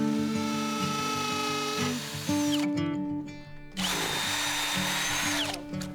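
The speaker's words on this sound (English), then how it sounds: "I'm going to pre-drill all these for our screws." A power drill whines steadily at high speed pre-drilling screw holes at a building site, pausing briefly and revving back up, close by with no talking.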